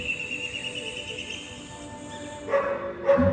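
A dog gives two short, close barks near the end, after a stretch of quiet steady background hum.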